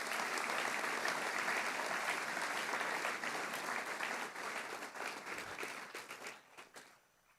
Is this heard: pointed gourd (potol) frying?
no